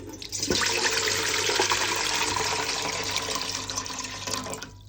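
Water pours steadily from a tap into a pot for cooking noodles, a continuous close splashing rush that lasts several seconds with no speech.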